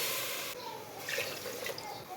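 Water is poured into a pot to make sugar syrup for rasgulla, a quiet trickling splash in a home kitchen that lasts a couple of seconds.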